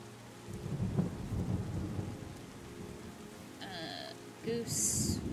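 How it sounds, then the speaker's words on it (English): Thunderstorm with rain falling steadily on a surface and deep rumbling thunder rolling through, plus a few brief higher animal-like calls near the end. "More thunder."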